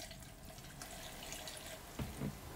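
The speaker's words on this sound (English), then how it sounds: "pour some RV antifreeze down the kitchen sink P-trap" RV antifreeze poured down a kitchen sink drain into the P-trap, a quiet, steady trickling flow with a couple of soft gurgles near the end, no voices.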